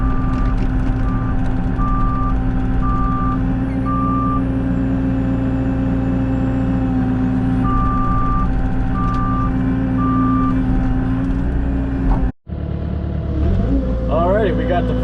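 An excavator tracks sideways during tree clearing, its reversing alarm beeping in evenly spaced bursts over a steady heavy engine drone, with a brief cutout near the end.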